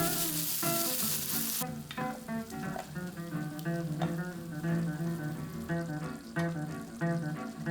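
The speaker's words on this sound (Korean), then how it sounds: "후라이팬을 긁어가면서 볶다가 생크림과 토마토 소스를 부어주세요" Pasta stir-frying in a frying pan as cream and tomato sauce are poured in, a loud steady bubbling sizzle after an opening hiss, with faint scraping and no voices.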